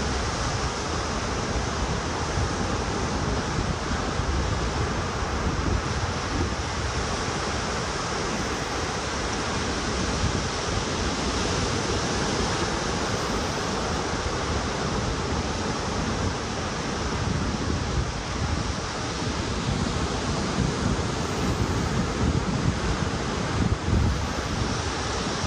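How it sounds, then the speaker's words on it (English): Ocean waves wash in a steady, dense roar of surf that stays loud and even throughout, with some wind and no voices. "And if you can hear the ocean,"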